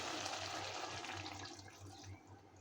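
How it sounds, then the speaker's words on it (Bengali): Broth poured into a curry of bata fish and drumsticks makes a faint, continuous liquid splashing and trickling sound close by, fading slightly toward the end, with no one talking. "পরিমাণ মতো ঝোল দিয়ে দিব।"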